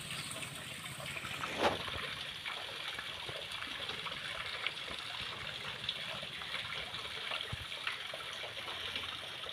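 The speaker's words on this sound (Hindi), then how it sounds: "जैसे पानी झरता हुआ आ रहा है" Water falls steadily into a stone kund beside the Narmada river, a soft continuous splashing rush heard from a short distance, alone and without talk, with an occasional louder splash.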